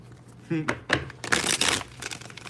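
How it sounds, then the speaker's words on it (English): Tarot cards being shuffled, a quick run of papery riffling, crinkling bursts up close, several uneven flurries across a couple of seconds with light background noise. "Just one more shuffle and we're ready, y'all."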